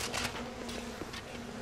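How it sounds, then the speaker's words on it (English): A dense, steady buzzing of a bee swarm in the video game BioShock, continuous and fairly loud, with a constant low hum running underneath. "My bees will harvest you."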